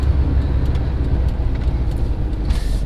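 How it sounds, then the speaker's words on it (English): An air-cooled Volkswagen with a newly fitted EMPI Hurst-style shifter drops from third back into second gear, its engine droning steadily and close throughout, with a brief hiss near the end. "Downshift back to second."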